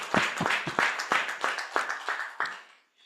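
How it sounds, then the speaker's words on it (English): An audience at a launch event gives a short round of hand clapping, roughly ten distinct claps close by, fading out at the end. "I think let's give another hand clap for"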